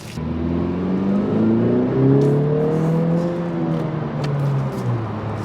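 A 2020 Honda Civic Si engine revs up and down through several smooth rising and falling sweeps, with long rev hang, steady and fairly close, with no voices.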